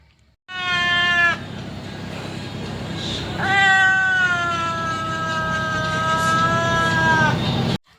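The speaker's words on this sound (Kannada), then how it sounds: "ಅಷ್ಟರಲ್ಲೇ ಮಿಯಾವ್ ಮಿಯಾವ್ ಅಂತ ಇತ್ತು" A kitten meows loudly and close, one short cry followed by a long drawn-out plaintive meow, with no other sounds.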